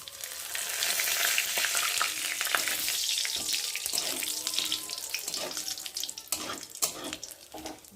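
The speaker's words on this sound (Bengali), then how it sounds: "আর এখন ফোড়ন দেব তেজপাতা আর জিরে" Bay leaves and cumin seeds crackle in hot oil with a loud, dense sizzle close by, steady at first and then broken by stirring scrapes and clinks.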